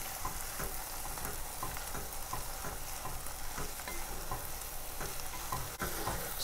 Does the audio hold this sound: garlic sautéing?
yes